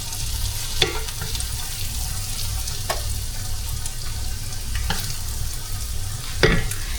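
Sauce is stirred in a crock pot holding garlic parmesan chicken and mushrooms: a low, steady background rumble with occasional soft scraping spoon strokes spaced a couple of seconds apart, and no speech.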